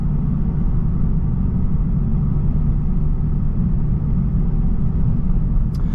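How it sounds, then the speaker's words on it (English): A Honda Civic Type R FL5 with a resonator delete fills the cabin with a constant deep engine and road rumble, and its turbo noise blends into the drone. "I believe my turbo noises they seem like a little bit louder"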